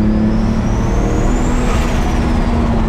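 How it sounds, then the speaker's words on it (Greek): Turbo whistle from a Toyota Supra MK4 on the road, a thin rising then falling whine riding over a loud, steady engine drone and road noise, heard close from inside the car. "Τσιρίζει η τουρμπίνα."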